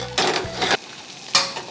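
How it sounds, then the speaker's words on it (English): Eggs are lowered into a pot for deviled eggs, giving two short knocking, clattering bursts close by, then a third sharp clack after a pause, with no talking. "I'm going to more gently place them into the pot."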